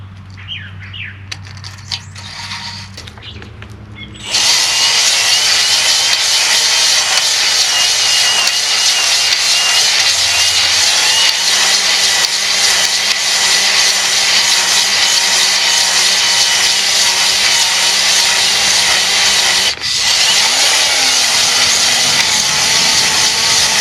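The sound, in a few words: honing an engine cylinder to a crosshatch finish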